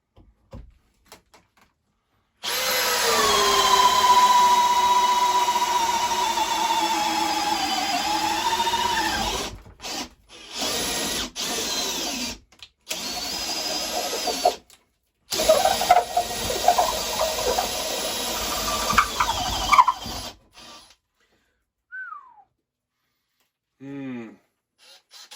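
A Makita XGT 40V cordless drill/driver running at speed 1, a steady loud whir held for about seven seconds, then broken bursts of driving with brief pauses, followed by quiet.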